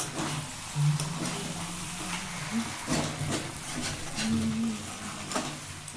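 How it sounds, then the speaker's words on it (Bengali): Mutton and potatoes stir-fried in a pot with spices give a low, crackling sizzle broken by repeated scraping strokes of a spoon against the pot, close and moderately loud. "এরপর আলুগুলো দিয়ে আরও পাঁচ মিনিট আমি ভালো করে কষিয়ে নেব"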